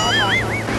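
Tad Kham waterfall at Na Ngua, Ban Phaeng, Nakhon Phanom, gives a constant loud rushing roar of falling water. A warbling, whistle-like tone rises and falls above it.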